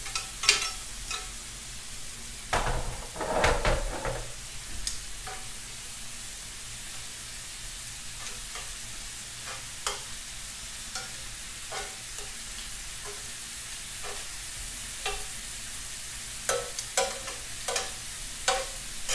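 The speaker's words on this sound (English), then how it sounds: "All right, I'm gonna turn the shrimp over" Garlicky, parsley-flecked spicy shrimp sizzle steadily in a pan while metal tongs turn them, giving a burst of loud spattering near the start and then sporadic sharp clicks and taps over a constant fry hiss.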